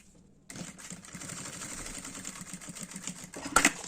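A sewing machine stitching fabric for a baby's pouch, starting abruptly after a near-silent moment and running in a steady rapid mechanical whir, with a sharper clack near the end.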